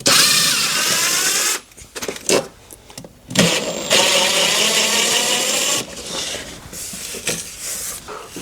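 Power drill driving four big screws during an office upgrade, loud whirring bursts that start and stop in several runs with short pauses between.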